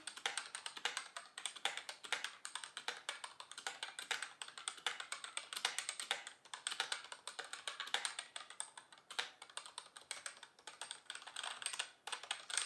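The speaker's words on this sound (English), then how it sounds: "Now finishing off the keyboard, we can just quickly hear how it sounds." Steady, rapid typing on an MSI Vigor GK30 gaming keyboard, a white budget membrane-mechanical board, giving a continuous stream of close, crisp key clicks and taps with no talking.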